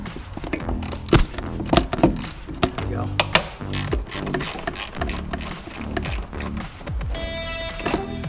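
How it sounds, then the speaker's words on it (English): Ratchet clicks and sharp metallic thunks from a socket wrench on a short 3-inch extension with a long socket, cracking loose the clutch master cylinder bolts on a turbo Miata, close and repeated, with background clatter. "reach down in here and crack them loose"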